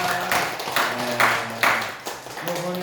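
A church congregation claps in welcome for visiting guests, a few bursts of hand clapping rising and falling over a short stretch, with some voices mixed in.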